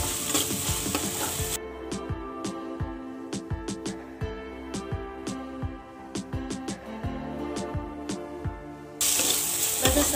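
Poha cooks in a hot pan, a steady sizzle under repeated scraping strokes of a spoon stirring the mixture, close and fairly loud throughout.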